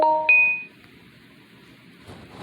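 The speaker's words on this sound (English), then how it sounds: "I got notifications." A bright multi-tone notification ding sounds right at the start during Minecraft gameplay, followed by a second chime, then fades into quiet ambient noise with a faint rustle near the end.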